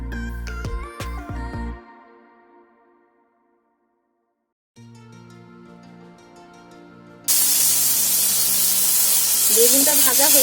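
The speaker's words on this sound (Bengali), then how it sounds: "বেগুনটা ভাজা হয়ে গেছে," Brinjal slices fry in hot oil, a bright broadband sizzle that bursts in after a stretch of music and near-silence, then hisses loudly and continuously to the end.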